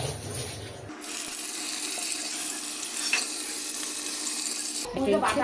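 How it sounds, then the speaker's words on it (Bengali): Marinated singi fish slide into hot oil in a wok, and a loud, steady frying hiss rises abruptly and holds for several seconds before cutting off, with a faint clink partway through. "এবার এই মাখিয়ে রাখা শিঙি মাছগুলো জেঠিমা তেলে ছেড়ে দেবে"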